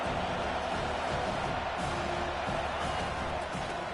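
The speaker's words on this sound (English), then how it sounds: "how nice is it to have the home crowd going absolutely bananas?" Home crowd in the NCAA 25 college football video game roaring continuously at a loud, steady level, a dense wash of cheering with no pauses throughout.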